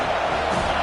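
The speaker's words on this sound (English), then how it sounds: "Listen to this crowd just shaking" Stadium crowd roaring steadily throughout a college football game in EA College Football 25, a dense, loud, continuous wash of cheering with no breaks.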